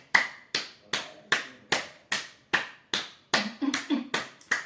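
Steady hand clapping, about a dozen sharp claps in an even rhythm, speeding up slightly toward the end, close and clear with no talking.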